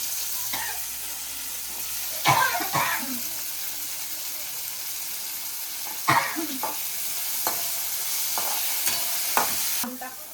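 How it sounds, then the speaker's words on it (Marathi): Chopped onion sizzling and frying in a pan over a wood-fired chulha stove for a mutton dish, a steady hiss broken by several sharp stirring scrapes and clatters. "कांदा भाजायला टाकलाय"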